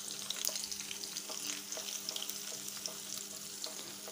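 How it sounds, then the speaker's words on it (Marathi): Peanuts frying in oil in a pan, a quiet, busy crackle and sizzle with small pops and occasional stirring clinks, heard close and without voices. "हे आपण तेलात फ्राय करून घेऊया।"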